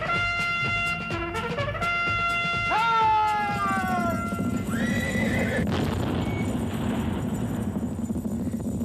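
Horse hooves clip-clop with a loud neigh and whinny at close range, amid a busy comic scene with music-like tones and background noise, no one speaking over it.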